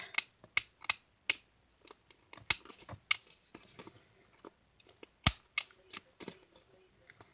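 Scissors snipping paper for a handmade journal: a run of crisp, quick cuts early on, then scattered lighter snips and rustles, one louder snap near the end, close and quiet with no talking.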